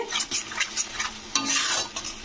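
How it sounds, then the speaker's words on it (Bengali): Spice masala with ground coriander and salt being stirred and fried in a pan, a spoon scraping repeatedly against the metal over a soft sizzle, close and moderately loud with no talk. "মশলাটাকে কিন্তু কষে নিতে হবে ভালো করে"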